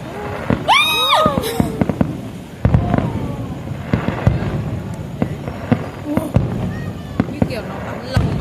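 Fireworks display at Hồ Văn Quán in Vietnam, with repeated pops, whistling rockets and crackling bursts, some near and loud, others distant, while people chat throughout.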